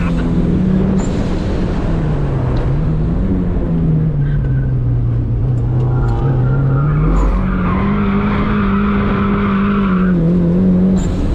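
A turbocharged Mazda Miata with a proper limited-slip differential slides sideways, its tires squealing in long wavering howls over a loud, close engine drone that rises and falls, with no talk.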